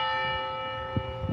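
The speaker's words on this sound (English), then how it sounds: "The bell rang 3 times at 1:02 p.m. as students came together to remember the exact moment Professor Zajay Yan lost his life." A church bell tolls at a campus memorial gathering, its sustained ringing tones hanging steadily, with the strokes sounding near and fairly loud.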